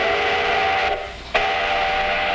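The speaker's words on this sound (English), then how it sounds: "That's an ore train, a symbol of a great Minnesota industry." Iron ore train in Minnesota sounding its whistle, a loud sustained tonal blast that briefly drops away and then resumes strongly, held steady to the end.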